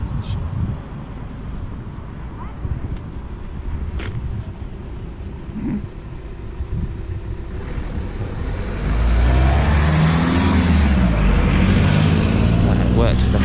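Car driving past temporary traffic lights on a road, a low rumbling engine growing louder and nearer near the end over steady outdoor wind noise, with someone talking intermittently.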